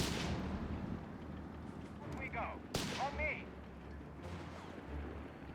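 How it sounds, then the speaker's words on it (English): In a Company of Heroes 3 battle, artillery and 6-pounder gun fire land as sharp, booming blasts, one especially loud crack standing out among the rumbling combat, with a voice partly under the din. "Another 6-pounder gun for DexN was also going for Indian artillery."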